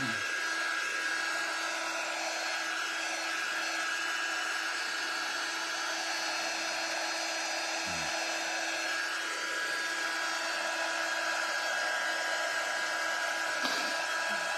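A steady, loud blowing drone from a dryer drying glitter and Mod Podge on a large 16-inch craft gnome, running unbroken from start to finish with a faint thump near the middle.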